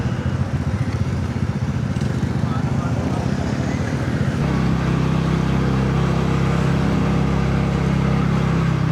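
A motorbike rides through the residential streets of Negombo, Sri Lanka, its steady engine drone and road rumble continuous and close, with the engine note deepening partway through.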